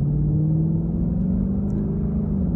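A 2015 Ford Mustang GT engine with automatic transmission hums steadily from inside the car while accelerating, a low droning rumble with a slight rise in pitch, no talking.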